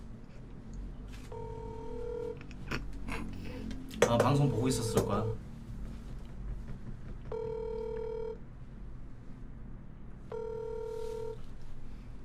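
A telephone is dialed with beeping keypad tones, then a call rings out in repeated even ring bursts with pauses between, while someone talks over parts of it.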